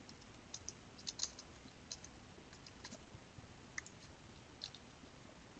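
Typing on a computer keyboard, faint scattered clicks and taps in quick irregular bursts over a quiet background.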